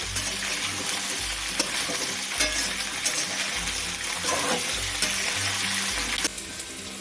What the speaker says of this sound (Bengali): মটরশুঁটিটাও হালকা করে ভাজা হয়ে যাবে